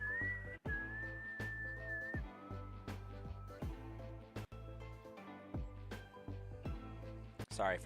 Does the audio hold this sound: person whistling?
yes